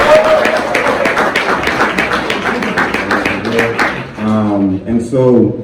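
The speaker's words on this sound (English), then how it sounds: "Let's give them a round of applause." Applause from the crowd at a book release party, a loud patter of clapping that fades out before a voice starts speaking at the end.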